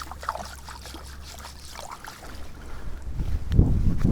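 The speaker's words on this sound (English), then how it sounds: "Put it in, give it a wash off, rub off the bigger lumps of mud" Mud being washed off a muddy foam handle in water outdoors: soft trickling and gentle sloshing that grows into louder, close splashing and rubbing near the end, with light wind in the background.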